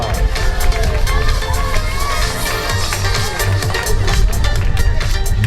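A crowd at a triathlon prize ceremony in Saint Point gives a dense, loud burst of applause and cheering that holds steady for several seconds, with babbling voices mixed in.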